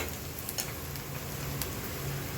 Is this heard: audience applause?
no